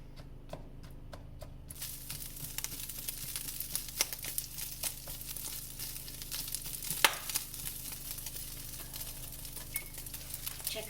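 Sausage browns in a pan with a soft, continuous crackle and scattered sharp pops of splattering fat, fairly faint and heard without any talking.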